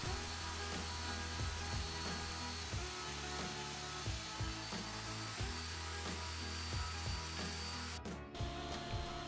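A Domino joiner cuts into wood, its motor whining steadily with repeated plunging cuts and short bumps along the workpiece, loud and close with no talk.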